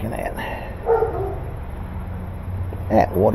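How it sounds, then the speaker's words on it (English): A female dog barking indoors in a workshop setting, a few short barks spaced out at moderate distance over a steady background hum, with a voice talking around them. "What is she barking at?"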